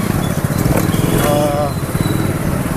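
A motorcycle engine idles with a steady low putter as the rider pulls up to park near a cinema, and someone talks over it close by.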